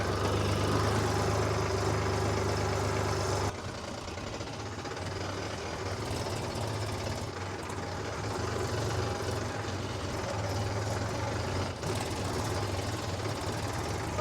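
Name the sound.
Mahindra tractor engine running in first gear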